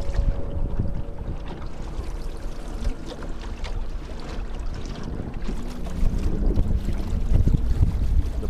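A small electric boat cruises along on open water, giving a steady wash of water and hull noise with wind buffeting the microphone and a low motor hum, building slightly toward the end.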